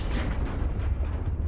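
A loud explosion in the DCS flight simulator during an F-15E JDAM strike, a dense rumbling blast that fades into a rushing whoosh over about a second and a half.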